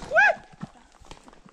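A horse being ridden makes a whinny-like call, then soft, faint hoof clops follow at a distance, with quiet background sounds.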